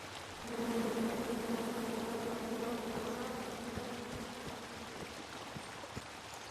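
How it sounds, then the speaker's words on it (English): A swarm of angry bees in the King's Quest video game gives off a steady, dense buzzing drone that stays level throughout with no voices. "Come at me, bees!"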